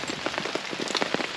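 Rain patters steadily on a camping tarp pitched in a wilderness area, with close, irregular drops tapping the fabric throughout a brief stretch and no voices.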